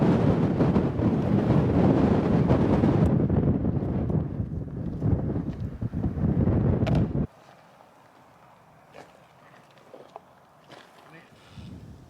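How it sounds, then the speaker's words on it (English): Strong wind buffets the microphone on a Peak District hilltop above a reservoir, loud and gusting for about seven seconds before cutting to a quieter stretch with a few faint knocks. "We've been battered by the wind for about the last 3 hours"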